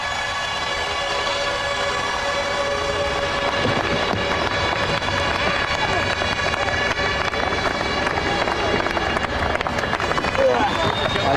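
Large racetrack crowd in Germany in 2003 roaring and cheering for Alex Zanardi, a dense, sustained wall of voices and applause with whistles and horns mixed in, steady and loud throughout.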